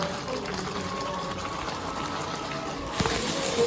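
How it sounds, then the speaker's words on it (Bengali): Hot water poured into a potato curry of new potatoes sautéing in a pan, a steady rushing hiss and sizzle that swells into a louder burst near the end. "তারপরে এর মধ্যে অ্যাড করতে হবে একটু গরম জল"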